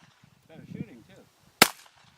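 A single sharp crack from a .22 pistol fired at a target, loud and close, following a few moments of quiet talk.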